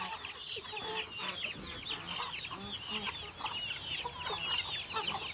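A flock of chickens clucks steadily while being fed rice at a home, with overlapping busy cackles and short calls continuing throughout at moderate distance, with no talk.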